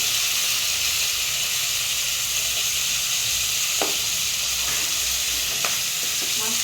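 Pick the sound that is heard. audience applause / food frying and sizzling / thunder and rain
food frying and sizzling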